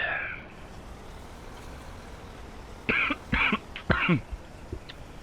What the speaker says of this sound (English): I just cannot get rid of this cough.